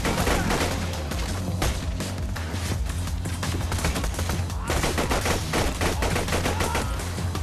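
Dense, continuous automatic gunfire and explosions fill a Borderlands 2 firefight, loud and relentless with rapid overlapping bursts and no pauses.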